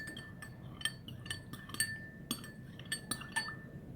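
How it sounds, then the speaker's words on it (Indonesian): A spoon stirs a liquid solution tinted with food colouring in laboratory glassware, giving light, irregular clinks against the glass over a soft background hiss, with no voices. "Kita aduk dulu supaya warnanya merata."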